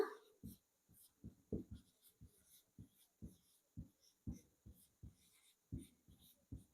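Hand writing on a board or paper during a Hindi music lesson: a steady run of short scratchy strokes, about a dozen in quick uneven rhythm, close and fairly faint, with no talk over them.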